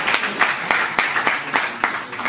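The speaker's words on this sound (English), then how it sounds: "big round of applause for Harjeet ji" At an announcement event for the Mumbai Fest, an audience gives a brief round of applause, a few bright, evenly spaced claps stand out over a softer clapping background.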